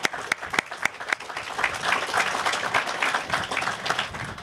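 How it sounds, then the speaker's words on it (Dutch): Applause for the country of Aruba and the research institute TNO at a formal Smart Community presentation: a room of people clapping steadily, beginning with a few sharp individual claps that quickly merge into a dense, sustained round at moderate loudness. "Graag een applaus voor het land Aruba en TNO, zijnde de bedenkers van de Smart Community."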